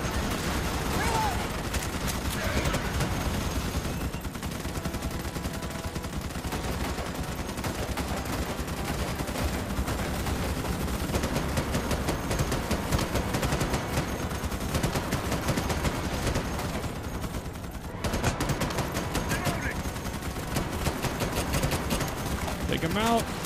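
Gunfire in the sci-fi shooter Starship Troopers: Extermination: relentless machine-gun fire and overlapping bursts run dense and steady throughout, with occasional voices underneath the constant shooting.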